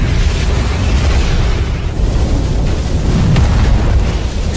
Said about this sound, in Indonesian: kedua kekuatan yang bertabrakan mengakibatkan ledakan yang luar biasa